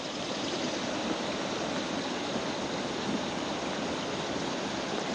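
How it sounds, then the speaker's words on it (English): Water running over rocks at an RV stop, a steady dense rushing wash like a small stream or cascade, close and constant with no voices. "just hearing the waves"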